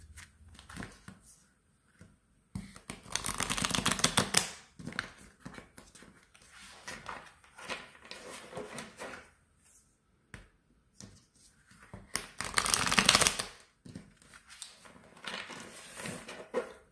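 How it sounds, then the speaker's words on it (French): A deck of playing cards being shuffled, with two loud, rustling riffle bursts near the start and again later, separated by quieter handling noises and some soft talk. "Je vais mélanger ces cartes-là."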